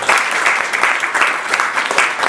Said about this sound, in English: he owed a big round of applause for what's happening